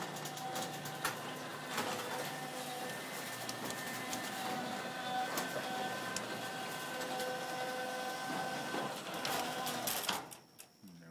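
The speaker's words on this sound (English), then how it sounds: "I know the motor does sound like it's straining" A small electric motor on a model tracked vehicle drives its original tape tracks with a faint, steady whine and rhythmic clicking throughout, strained and laboring, then cuts off abruptly near the end.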